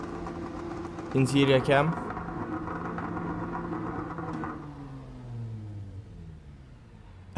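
An engine-swapped Nissan Silvia with anti-lag in Gran Turismo 7 holds at idle with the brake pressed, giving a steady rumble with a quick burst of revs early on and fading tones, heard under a talking voice.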